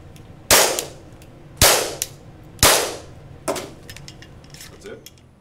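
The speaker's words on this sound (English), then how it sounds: "officers here go through an active shooter training and use soap bullets to really create a sense of what something like this would be like" Soap-marking training bullets fired in a police active shooter drill: three sharp, loud cracks about a second apart, then a fainter fourth shot and scattered light clatter.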